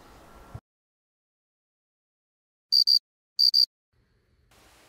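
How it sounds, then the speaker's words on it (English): Crickets chirp in two short, bright double bursts against near silence, a sharp, close trill that starts and stops abruptly in a comic alien film. "it's time to sit down and enjoy some noisy crickets"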